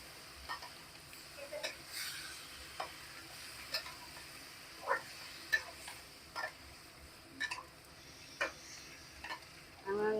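Chicken sautés in spices in a pot with no added water, a faint low sizzle under a series of irregular clicks and scrapes from stirring.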